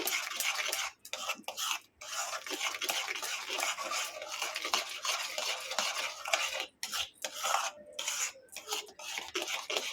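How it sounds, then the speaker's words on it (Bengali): A spoon scrapes and stirs a milk powder sandesh mixture in a pan, close and continuous, with brief pauses between strokes and no talking. "ভালো করে এটাকে আবারও"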